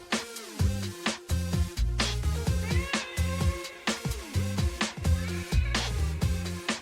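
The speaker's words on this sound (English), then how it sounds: "You better have cat sound effects on your radio show." A cat sound effect meows repeatedly, several loud, close, drawn-out calls in an uneven rhythm with brief gaps between them, played on a radio show.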